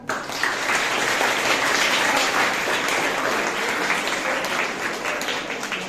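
Steady audience applause at a student presentation event, dense clapping held at an even level for several seconds before easing slightly at the end.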